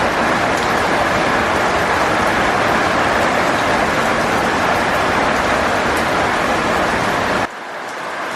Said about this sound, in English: I don't know if you can hear in the background, I said earlier that it was a kind of a wet and cold winter day